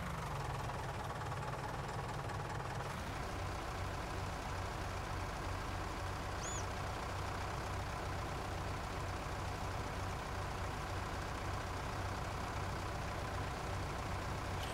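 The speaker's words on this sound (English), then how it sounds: "this little tractor right here is not like an amazing tractor, but for what we needed to do, it's a pretty good little tractor" A small tractor engine in Farming Simulator 19 drones steadily, a continuous low rumbling hum with a slight shift in tone early on, constant in level throughout and without any talk.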